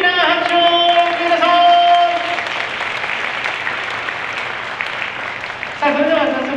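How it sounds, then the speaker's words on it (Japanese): Applause from an audience at a 2022 car-team fan appreciation event in Japan swells loudly for several seconds, with a host's voice speaking over the clapping at the start and end. "カタールチャイアの選手、スタッフの皆さんにもう一度大きな拍手を送って"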